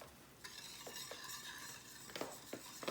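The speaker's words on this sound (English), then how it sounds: "You stir it well." A spoon stirs sugar into sauce ingredients for General Tso's chicken, giving soft scraping strokes and a few light clinks against the bowl, fairly quiet and close, with no talking.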